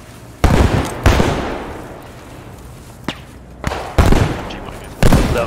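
Loud, sharp rifle shots crack out about six times at irregular intervals in Post Scriptum, each followed by a short rumbling echo over faint background ambience.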